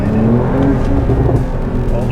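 Porsche engine at the Porsche World Roadshow in Sepang, loud and close with a strong steady drone and changing pitch, under a voice talking over it; separate pops or bangs are not evident.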